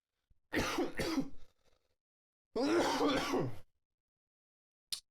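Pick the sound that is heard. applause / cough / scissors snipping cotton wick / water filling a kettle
cough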